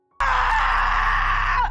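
A single loud, sustained high-pitched scream starts abruptly and holds for over a second before breaking off.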